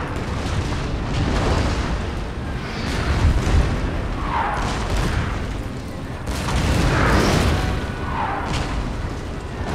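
Cannon artillery fire in the video game Napoleon Total War: repeated heavy booms roll over a continuous loud battle din, with no talking.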